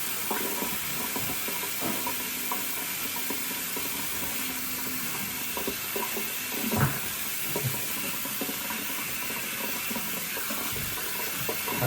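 Water runs steadily from a tap while green pitted olives are rinsed, a constant soft hiss with occasional light clinks and knocks from the bowl, no voices.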